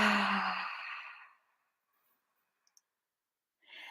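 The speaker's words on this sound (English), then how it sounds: "Exhale through the mouth." A long, soft exhale through the mouth fades out over about a second, followed by silence with a couple of faint clicks and the start of another breath.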